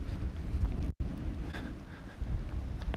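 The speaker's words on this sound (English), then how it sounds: "Oh man, it's a windy day today out here on the trail." Strong wind buffets the microphone on the San Francisco Bay Trail, a loud continuous low rumble with gusting swells and one brief dropout, no voices over it.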